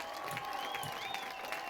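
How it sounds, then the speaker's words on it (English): Crowd applause and cheering in the visual novel game Chord Progressions as a song ends: a dense, steady wash of clapping held at an even level throughout, with a sustained tonal layer underneath. "The crowd erupts in applause, Moriah and myself included."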